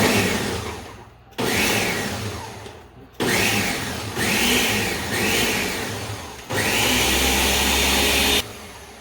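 A blender pulses pumpkin crab soup in loud bursts of whirring motor, about five or six on-off pulses of varying length with brief gaps between, close up and with no talking over them.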